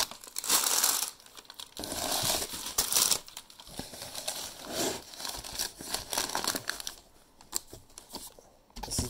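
Packing paper crinkles and crumples as a Busse knife box is unpacked, a close, continuous rustling in irregular bursts with brief pauses, no talking.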